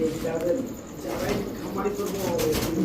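Blue bar Bombay pigeons coo softly and repeatedly at close range, their low, throaty calls running under people talking.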